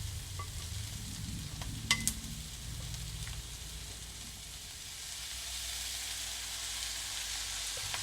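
Chopped leftover ham is tipped onto browned onions in a frying pan and stirred, giving a continuous close sizzle with a brief cluster of metallic clinks early on, then steady frying with no talking.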